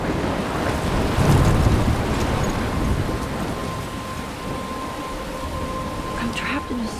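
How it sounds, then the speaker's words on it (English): Stormy weather in the Life is Strange game: steady heavy rain and rumbling thunder fill the scene, with a deep low boom swelling early on, a faint tonal hum running through it, and water rushing throughout. "I'm trapped in a storm?"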